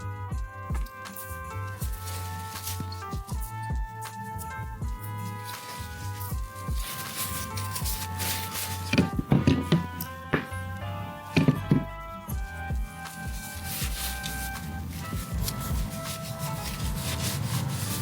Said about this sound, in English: To ensure no dirt is left, we wipe them down with a cloth.